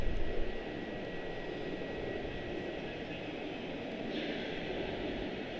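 An ERJ 145 regional jet at Charlotte-Douglas airport gives off a steady, moderately distant engine roar that holds at an even level throughout, with no voices.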